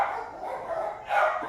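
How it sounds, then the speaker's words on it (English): Several dogs barking in a continuous, fairly loud chorus with a sharper burst near the end. "let me just see what the dogs are barking at"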